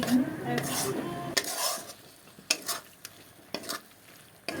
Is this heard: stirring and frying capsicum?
yes